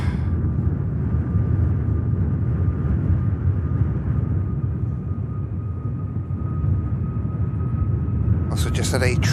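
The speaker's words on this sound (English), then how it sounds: "That is the Ryanair. It's a takeoff roll." Ryanair airliner on its takeoff roll at Manchester Airport, a loud, steady jet roar with heavy low rumble and a sustained whine holding throughout, a faint bird-like chirp near the end.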